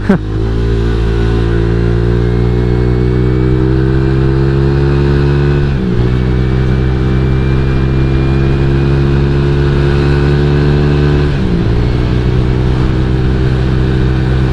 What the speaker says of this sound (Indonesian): Asli ini suara knalpotnya enak loh